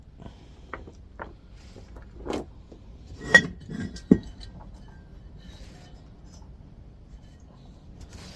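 Small ball bearings from an old scrapped motor set down on a surface, a few scattered light metallic clinks and taps, with a couple of sharper clinks near the middle, then quiet.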